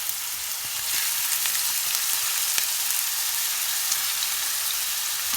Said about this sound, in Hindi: अब हमने अनियन को फ्राई करना है